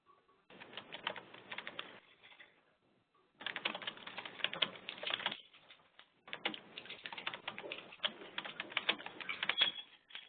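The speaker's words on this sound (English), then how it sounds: "I heard someone typing" Typing on a computer keyboard in three bursts of rapid, uneven key clicks with short pauses between, fairly close and clear, no talking over it.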